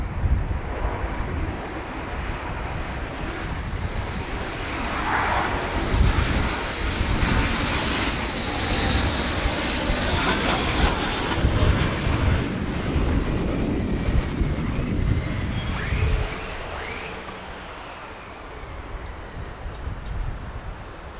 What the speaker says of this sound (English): we've got F-15s coming in behind us